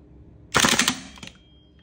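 A WE HK416C gas blowback airsoft rifle fires one rapid full-auto burst of sharp, loud, closely spaced clacking shots with a metallic ring, lasting under a second, then goes quiet.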